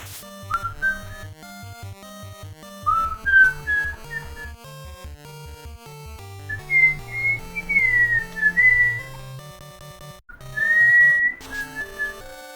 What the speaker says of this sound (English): I like whistling that part, though. That's a fun little whistle in that song.